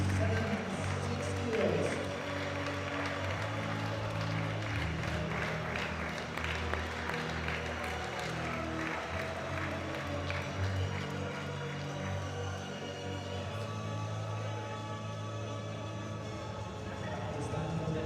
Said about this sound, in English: now give a round of applause for our athletes from category